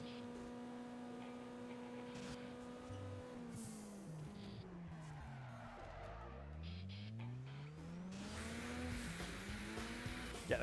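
Racing cars in a car racing video game roar through rising and falling engine revs and gear changes, with tires squealing and skidding, a dense continuous mix with no talking.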